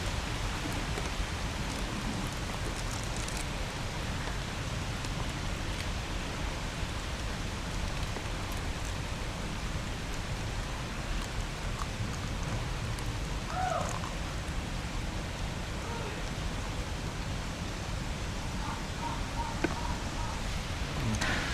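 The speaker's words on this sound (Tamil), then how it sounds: "அதனால் மழை பெஞ்சாலும் பிரச்சனை இல்லை. லைட்டாக சாரல் தான் அடிக்குது." Light drizzle falls under a tamarind tree during outdoor burrow honey harvesting in Kaliyakavilai, a steady soft patter of rain throughout with a few faint distant bird calls and no talk.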